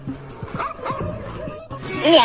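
Dogs yip and bark in short excited bursts among children's shouting voices outdoors while a large kite is flown, with a sharper, louder run of yelps near the end.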